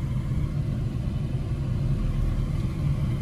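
A car engine rumbles steadily and close by, a continuous low drone with no clear rise in pitch and no voices.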